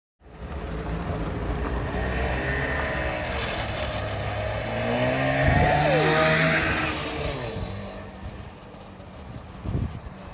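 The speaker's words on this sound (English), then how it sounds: "It has basically a lawnmower engine in it" A small museum car powered by a lawnmower-type engine putters along as guests drive it, a steady mechanical drone that swells midway and fades, with some clunks near the end.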